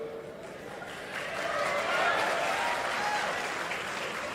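An audience in a conversation event hall claps steadily, the applause swelling after the first second and holding at a moderate, roomy level.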